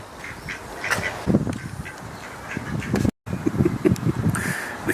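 Ducks quacking at a back door, a busy run of repeated quacks fairly close by, with a short break partway through.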